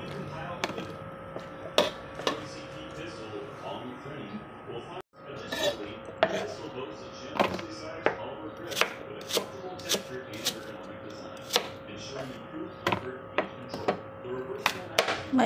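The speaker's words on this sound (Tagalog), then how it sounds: "Hinihiwa ko siya ng maliliit." A knife chops an orange into small pieces on a board, with a steady run of close, sharp taps and light clinks of utensils recurring roughly every half second to second.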